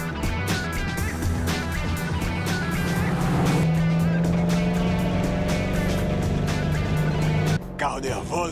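An American Dodge muscle car in GTA Online rumbles with a steady low engine drone that rises slightly mid-way, loud and continuous, with a voice talking over it before it cuts off near the end.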